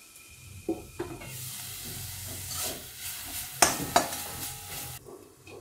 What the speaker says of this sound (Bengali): মাঝে মাঝে ঢাকা খুলে একটু নেড়ে দিচ্ছি।